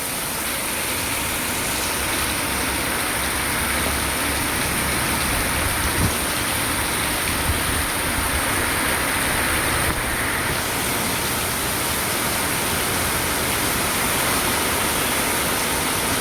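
Heavy, steady rain pours down over a farm field in a village, a dense continuous hiss that fills the whole stretch at close range with no pauses and no voices.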